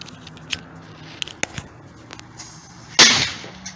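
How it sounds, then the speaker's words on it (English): A homemade firework goes off outdoors. A few small scattered clicks are followed by one sharp burst that trails into a short, fading fizz. "Homemade firework test one."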